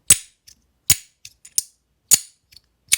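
Sharp metallic clicks and snaps from a copper fidget slider, close and crisp, in quick pairs with short pauses between, as the small slider is flicked back and forth.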